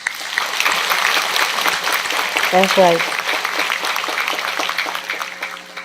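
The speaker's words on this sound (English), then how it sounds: "let's give a round of applause for all the disciples that helped put this book together" Audience giving a round of applause at a gathering, dense steady clapping throughout, with a brief spoken voice rising over it midway.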